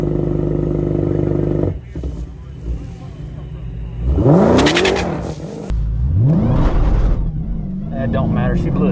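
Dodge Demon 170 launching off the trans brake with its tires spinning: a loud engine roar that revs up sharply twice in rising sweeps, with whirring tire spin and people talking.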